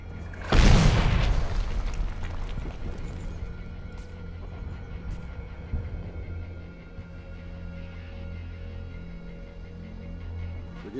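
A mortar shell explodes in a Medal of Honor game: one loud, close blast near the start, followed by a low, steady battlefield rumble.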